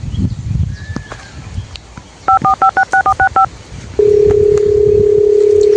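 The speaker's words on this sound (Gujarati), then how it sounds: "રોનજીને ફોન કરવો પડશે" A telephone keypad dials a call in a Gujarati village comedy skit: a quick run of about nine touch-tone beeps, then a steady, loud tone of the line connecting, over faint outdoor background.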